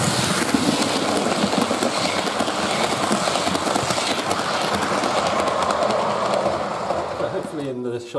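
A model train runs along a hilly layout on a baseboard at a gauge junction, producing a steady, loud rolling rumble with fine clickety-clack from the track, and a voice briefly appears near the end.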